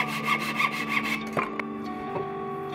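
A handsaw cuts a wooden board for the bottom piece of a simple birdhouse, giving several quick rhythmic back-and-forth strokes close by before stopping, then a couple of faint knocks.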